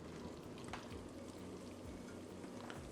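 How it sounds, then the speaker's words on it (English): Cooked macaroni noodles are poured slowly back into a pan, a soft continuous wet sliding and dribbling sound, faint and close. "we're going to pour our macaroni noodles back into our pan slowly"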